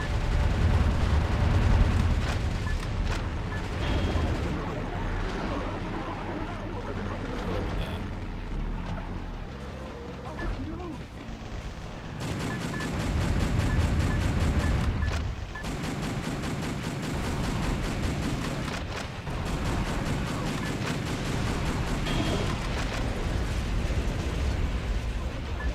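Rockets and gunfire from the arcade shooter House of the Dead rumble as dense, sustained explosions and bursts, loud throughout with brief dips, and voices occasionally mixed in.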